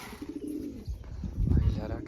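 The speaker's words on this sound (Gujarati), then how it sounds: "આવી રહ્યા કબૂતર" Pigeons cooing while feeding on grain, a few soft low coos close by alongside light rustling, with brief faint voices in the background.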